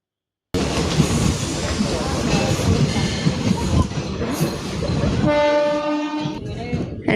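A train rumbles loudly at a railway station in Kerala with a rushing, clattering roar, then a long blaring horn sounds near the end.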